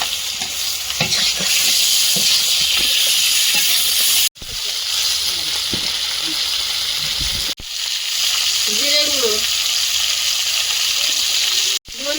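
Cauliflower tipped into hot oil with fried boiled potatoes in a home kitchen, giving a loud, steady sizzle and frying hiss with stirring scrapes that run unbroken apart from two brief drops.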